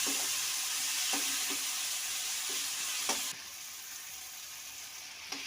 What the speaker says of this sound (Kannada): ಇದು ಕೂಡ ಫ್ರೈ ಆಗಬೇಕು ನಂತರ ನಾನು ಮೂರು ಟೊಮೊಟೊ ಹೆಚ್ಚಿರುವಂಥ ಸಣ್ಣಗೆ ಹೆಚ್ಚಿರುವಂಥ ಟೊಮೊಟೊನೂ ಇದ್ದೀನಿ